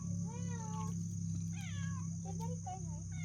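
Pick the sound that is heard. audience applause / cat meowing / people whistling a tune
cat meowing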